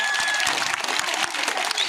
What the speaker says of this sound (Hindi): तालियां होनी चाहिए इनके लिए, भरपूर तालियां।